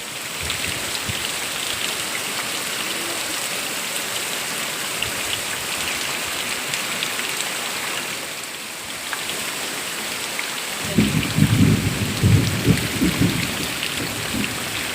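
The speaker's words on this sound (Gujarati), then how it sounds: "કાલ આષાઢી બીજ કાલ હે ને આજ વરસાદ આવ્યો છે" Heavy monsoon rain pours down in a dense, steady hiss for the whole stretch, with a deeper rumbling surge of downpour or distant thunder building near the end.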